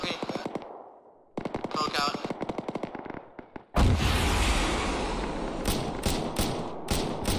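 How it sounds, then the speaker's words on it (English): In Arma 3, rapid machine-gun bursts crackle first, then a rocket launcher fires with a sudden loud whooshing blast that roars on and fades, while scattered shots ring out behind it. "Yeah, I'll hit him with the rocket."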